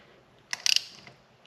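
Oil drain plug being tightened on a 2022 Honda Grom, a short burst of quick ratchet clicks close up, followed by a faint metallic tap.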